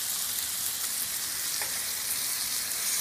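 Chopped deer steak and green tomato fry on a Blackstone griddle with a steady, dense sizzle that holds level throughout, close up, with no talking.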